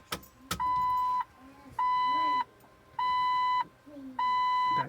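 A Jeep electronics system sounds four evenly spaced, loud, sustained beeps, each about half a second long, as the Jeep is switched off and on again, with a short clunk at the start and no talking.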